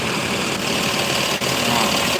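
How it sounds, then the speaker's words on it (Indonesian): ALS intercity bus engine idling at a depot in Pekanbaru, a steady, loud, continuous rumble with faint vibration that holds through without a break or talk. "dengarkan mesinnya sobat semuanya, mantap."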